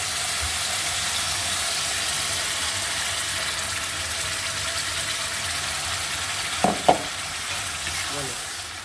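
Tomato dropped into hot oil with ground cumin paste, turmeric and salt, frying in a loud continuous sizzle that fills the whole stretch, with a couple of sharp knocks near the end as it fades slightly, no voices.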